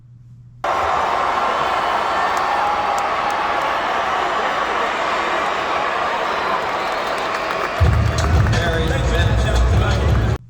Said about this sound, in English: the crowd, roars a little bit after a tackle is made